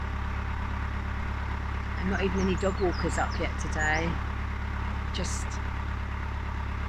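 A canal boat engine runs with a steady low drone in the countryside while someone talks over it close by.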